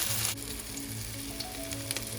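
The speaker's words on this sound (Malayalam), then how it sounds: "ഈ മിശ്രിതത്തിൽ മുക്കി നമുക്ക് പൊരിച്ചെടുക്കാം." Cauliflower pieces frying in hot coconut oil in a pan give a steady, close sizzle that runs throughout, with a brief louder crackle at the start and no talking.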